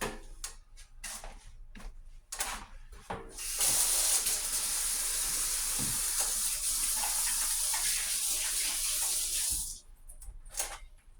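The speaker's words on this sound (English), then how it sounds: "Let me wash my hands." Water runs steadily from a kitchen tap into a sink while hands are washed beneath it, a broad close hiss lasting several seconds with brief splashes and clatter before and after.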